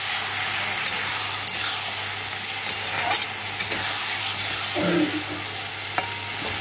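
Lentils and taro being stir-fried with spices in a pan, a steady soft sizzle with faint scraping stirs throughout, close and continuous, no talking.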